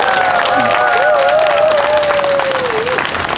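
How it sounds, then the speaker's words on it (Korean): Steady, dense applause from a large crowd at an outdoor Catholic street mass held during a climate justice march, sustained at full strength throughout, with a voice speaking over it. "박수 부탁드리겠습니다."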